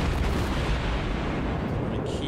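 Warship guns firing in the World of Warships naval combat game, a dense continuous roar of loud booming artillery that fills the whole stretch without a break.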